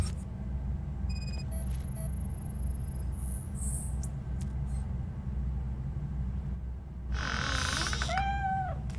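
Cat meowing in the RoboCop: Rogue City video game, a few plaintive mews near the end over a steady low ambient game hum, with brief electronic chirps earlier.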